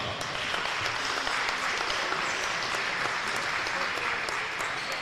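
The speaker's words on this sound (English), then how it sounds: "please give a round of applause to number 12" A crowd applauds steadily for a high school boys' basketball player on senior night in a gym at a Sacred Heart home game against Breckenridge, the dense clapping sustained and even throughout.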